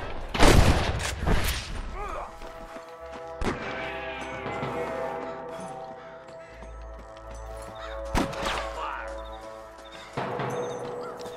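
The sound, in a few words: sniper gunfire in video game Red Dead Redemption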